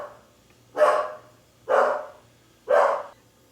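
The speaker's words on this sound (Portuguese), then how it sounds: "O cachorro tá latindo." A dog barks three times at an even, unhurried pace, each bark loud, full and fairly close, with quiet gaps between and a faint low hum underneath.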